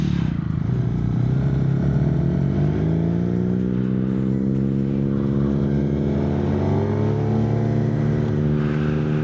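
A Suzuki GSX-R 750 sport bike, worn and clapped out, roars loud and close, its engine note rising and falling steadily through gear changes while being ridden hard into corners, with no voices over it.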